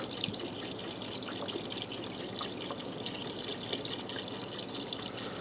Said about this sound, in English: Now I have some chicken broth here. I'm going to add some in.